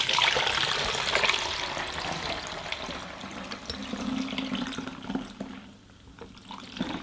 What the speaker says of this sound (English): now I am going to pour it into this bottle